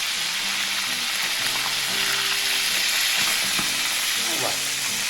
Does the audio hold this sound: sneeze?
no